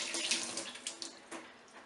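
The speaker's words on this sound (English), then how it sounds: "we're going to have then just a quick wash of the hands" Hands rinsed under a running kitchen tap while cooking a butternut squash curry: steady close splashing hiss with small uneven gushes as the hands move through the stream, no voices.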